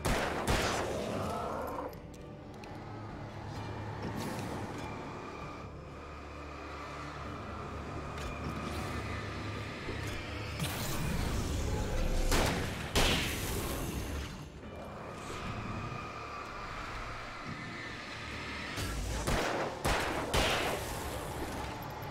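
Handgun shots in the game Alan Wake, a string of sharp cracks spread unevenly over twenty seconds, some in tight clusters, set against tense background ambience with no talking.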